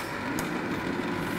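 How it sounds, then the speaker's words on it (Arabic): A homemade ice cream machine's refrigeration motor runs with a steady, even hum that stays at one level throughout, with no voices over it. "ها هو خدام الموتور."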